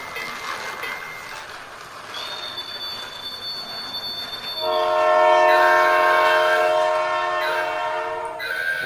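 A toy train pulling wagons along a diorama track, a steady rolling rumble joined by sustained electronic horn-like tones that swell louder midway, with no speech.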